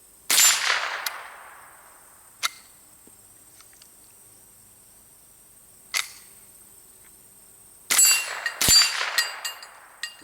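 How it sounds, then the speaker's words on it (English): A semi-automatic rifle fires at an outdoor range aimed toward steel plates, sharp loud cracks arriving in irregular bursts and single shots, separated by quiet gaps, with some faint distant ringing. "I'm going to do a little bit of spray and pray and see if I can kind of walk it in the 20 or so rounds that are in this magazine"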